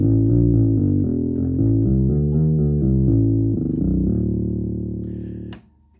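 A Technics U90 organ playing its tuba voice: a loud, sustained low brassy tone stepping through a short run of notes, then holding one note for over a second before it cuts off cleanly, with nothing else heard.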